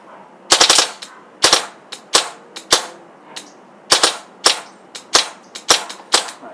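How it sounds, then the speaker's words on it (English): Tippmann M4 CO2-powered BB gun firing from its magazine, popping out a dozen or so sharp, loud cracks in short uneven bursts with small gaps, the cycling stuttering as the gas runs low. "It's having a hard time shooting full auto as the mag is running out, but it still has BBs"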